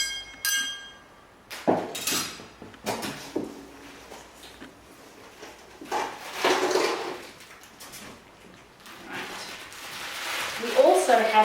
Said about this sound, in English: we can easily make a triangle in a few seconds. Hang one of our shelving braces, and you know the kids are going to love making that noise.